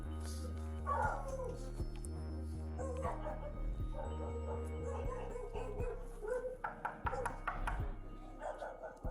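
A dog barks and yips repeatedly in an indoor home setting during a tense police encounter, the barks loud and close, mixed with whimpering and background commotion.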